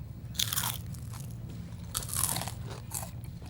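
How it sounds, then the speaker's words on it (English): Crisp crunches from biting into a fried onion ring cooked in a countertop fryer, several loud, close bites and chews spaced over a few seconds against a low background hum. "I want you to bite in and hear the crunch and feel"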